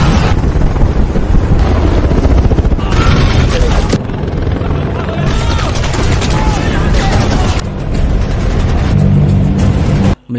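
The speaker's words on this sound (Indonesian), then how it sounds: "helikopter Apache melancarkan serangan brutal" Apache attack helicopter assault in a desert war film, dense loud battle din of rotor, gunfire and engine roar filling the whole stretch, with a brief cut near the end.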